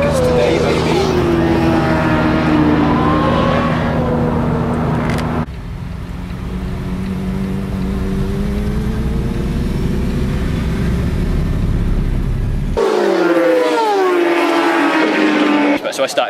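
A car rounds a roundabout on the way to the Thruxton British Superbikes meeting, its steady engine drone loud and close inside the cabin, with someone talking over it at the start and end.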